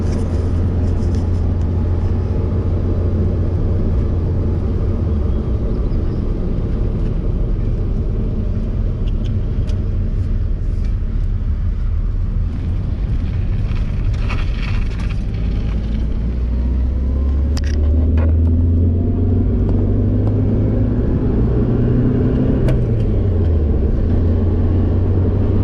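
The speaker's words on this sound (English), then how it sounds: "Man, I haven't driven a Corolla in such a long time. Feels good to be driving it again." A Toyota Corolla AE86 drives along with a steady, loud engine drone and road rumble heard from inside the cabin, while the engine pitch rises and falls as it moves through the gears.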